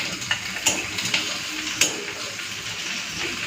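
An egg frying in a pan as it gets flipped over, giving a steady sizzle broken by a few sharp scraping clicks from the turner, heard close up with no talk.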